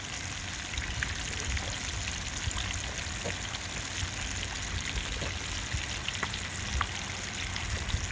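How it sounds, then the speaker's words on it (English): Fish fries in hot oil in a steady, dense sizzle with fine crackles and pops throughout, close and continuous with no talking. "That fish is opening up now. And it's letting that oil get in there and cook."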